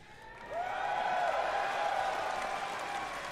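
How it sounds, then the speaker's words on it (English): A large crowd at the BlizzCon 2023 opening ceremony breaks into applause and cheering after the Diablo 4 Vessel of Hatred announcement. The sustained roar starts abruptly and carries under a bright, drawn-out musical tone. "Some applause"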